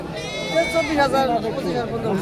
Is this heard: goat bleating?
yes